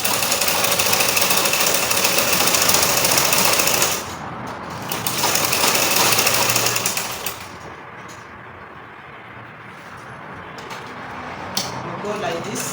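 A sewing machine top stitches a long-sleeve cuff in a steady whirring run that slows and drops quieter partway through, then continues more softly.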